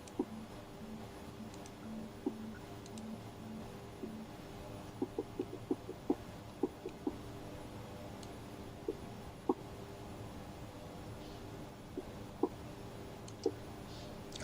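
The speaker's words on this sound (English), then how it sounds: "So I can hear him clicking." Buttons click near a flight sim player's set-down headset, sharp faint ticks scattered irregularly, sometimes in quick clusters, over a low steady hum.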